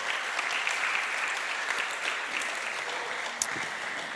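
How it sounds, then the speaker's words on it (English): A church congregation applauds during a Sunday service, a continuous, moderately loud wash of clapping from many hands that holds evenly for several seconds, with a sharp single clap standing out near the end. "give God a round of applause"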